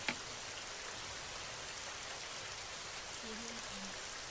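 Heavy rain pours down steadily as a dense, even hiss with no break in it, with a faint low tone briefly sounding beneath the downpour near the end.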